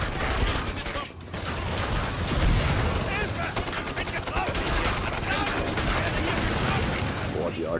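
Rapid automatic AK rifle fire in the co-op shooter Killing Floor 2, a dense continuous clatter of shots with mechanical action noise running nearly throughout, with talk mixed in.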